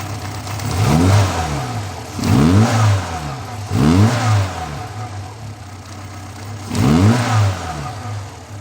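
A 1995 Fiat Punto 176 with a 1.2 8v engine, suffering high intake manifold pressure, revs up and falls back four times at a steady rhythm over its idle, close and fairly loud.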